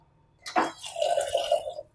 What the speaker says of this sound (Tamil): நம்ம வந்து சூப்புக்கு தகுந்த மாதிரி தண்ணியும் உள்ளே சேர்த்துருவோம்